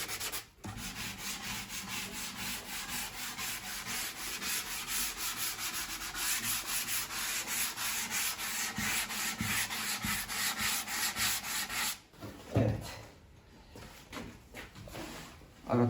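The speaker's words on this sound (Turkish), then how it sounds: "150 numara zımparayla komple bir geçeceğiz." Steady back-and-forth sanding on a wooden saz body with 150-grit sandpaper, a continuous scratchy rasp for about twelve seconds, then it stops and a few knocks and handling sounds follow.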